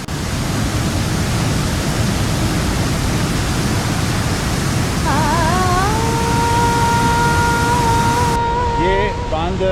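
Naugadh waterfall near Varanasi roars as a steady, loud, broadband rush of falling water that fills the whole stretch, with a faint tonal sound rising partway through.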